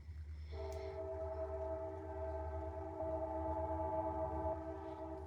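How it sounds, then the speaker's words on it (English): A train rumbles past steadily, with long sustained horn-like tones over a low mechanical drone throughout. "Now a train's going by."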